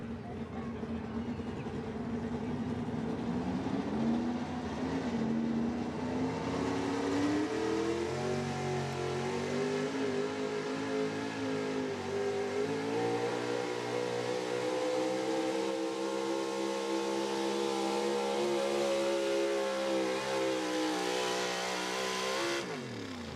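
A 1985 Chevy pulling truck roars loudly and continuously at a truck pull, its engine pitch climbing and holding high during the run, with an announcer's voice faintly mixed in.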